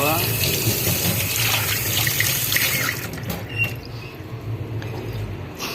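Water runs from a kitchen sink tap in a steady rushing stream during washing, easing off after about three seconds into lighter splashes and clinks, with a voice speaking over it.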